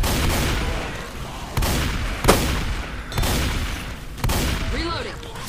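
Gunfire in the Craft4Dead2 video game: several sharp, loud shots punctuate the action at uneven intervals, mixed with game noise and players talking.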